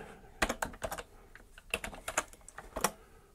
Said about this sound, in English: got to type it in right